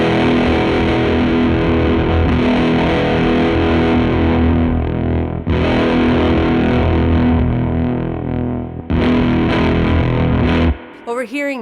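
An electric guitar runs through a shoegaze fuzz pedal with the bite set around 9, giving a thick, loud wall of strummed chords that rings on steadily and breaks off near the end.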